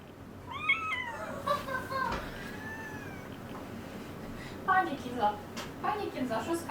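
A cat meows several times, with drawn-out rising and falling mews coming in bursts over a low, steady background hum.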